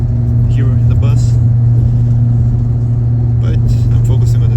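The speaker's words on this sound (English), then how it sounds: "You'll hear this humming" Steady low engine hum of a bus while riding along, a constant drone with faint rattles, heard from inside the cabin throughout.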